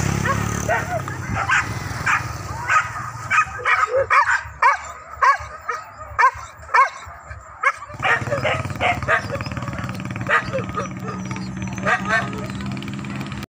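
Hunting dogs bark and yip repeatedly in rapid, overlapping bursts during a wild boar hunt near Solok, with excited whimpers mixed in, under people talking and a low engine rumble in the background.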